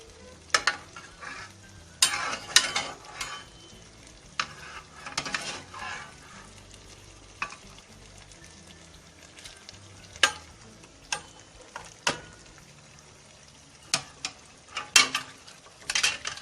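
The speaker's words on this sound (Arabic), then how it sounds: "هلا راح اجيب الدجاج واحطه جوات البصل" Chicken pieces are added and stirred in a pan of cooking onions for Palestinian musakhan, giving a soft continuous sizzle broken by sharp scraping and clinking stirs at irregular intervals.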